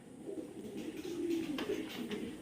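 Several fancy pigeons coo softly and continuously in low, throaty murmurs, close by in an enclosed village breeding loft, with faint rustling.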